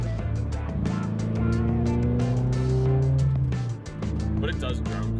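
Low, steady engine drone inside the cabin of a Subaru BRZ while driving on the road, a humming tone that rises slightly in pitch and then dips, with a person talking over it.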